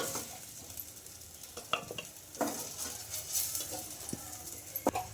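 Ingredients for urad dal poori fry in hot oil with a soft, steady sizzle, while a utensil stirs and scrapes the pan in occasional brief knocks, fairly quiet and close.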